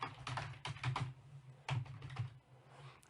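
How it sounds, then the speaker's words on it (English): Clattering keystrokes on a computer keyboard while an email is typed, quick irregular bursts of taps with brief pauses, close and fairly quiet over a steady low hum. "I'm purely just typing in an email to show you that you can."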